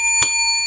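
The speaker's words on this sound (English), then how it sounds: "Don't want to forget the bell." A bicycle-style bell rings once with a bright, sustained metallic tone that lingers across the whole moment, loud and close, with no talking.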